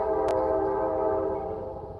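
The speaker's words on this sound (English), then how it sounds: "That train over there is very loud." A loud train passes near a park, its horn blaring as a steady sustained tone with a rumbling undertone, close and dominant throughout.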